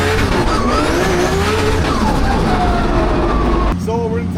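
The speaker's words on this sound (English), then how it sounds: "a little dab of the handbrake from Shanahan just to scrub a small bit of speed" A drift car in competition at a drift championship round in Oman skids at length under a dab of handbrake, its engine roaring and tires squealing loudly and continuously before the noise drops off abruptly near the end.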